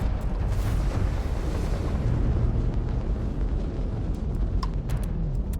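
Crimson Fleet enemy ship weapons fire in a Starfield space battle, a steady roar of rumbling blasts and bursts, loud and continuous with no clear break between shots.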